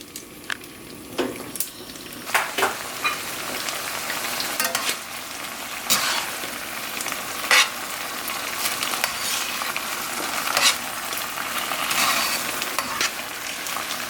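Kamut udon pasta is stirred into a sizzling pan of vegan marinara sauce, giving a continuous frying hiss broken by scraping, clattering stirs and occasional sharper clinks, with nobody talking.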